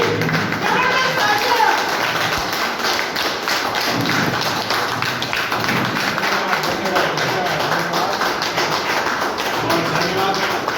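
An audience at a business planning meeting applauds loudly and steadily to welcome someone to the stage, dense rapid clapping with voices and thumps mixed in throughout.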